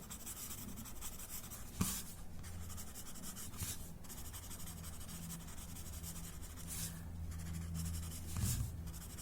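Pencil shading and softening strokes on paper, close and faint, a steady soft scratching rub with a few sharper taps and strokes, no talking.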